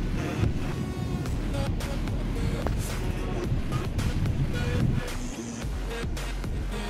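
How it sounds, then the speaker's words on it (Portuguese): Rough sea at high tide rolls onto Meia Praia beach in Navegantes, SC, as a continuous loud roar of surf mixed with gusty wind buffeting the microphone. "Infelizmente hoje o mar tá bem agitado"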